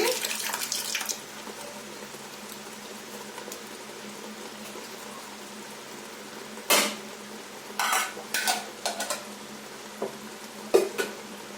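Yogurt being stirred into chicken biryani in a pot makes soft wet scraping under faint running-water noise, with several louder bursts of utensil clatter against the pot toward the end.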